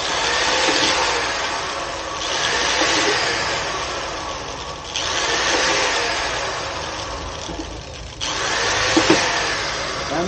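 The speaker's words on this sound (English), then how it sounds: "So now I've got my drill." A power drill whines steadily and loudly, pausing briefly between bursts as it bores holes through a plastic 5-gallon bucket.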